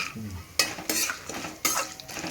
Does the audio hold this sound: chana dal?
yes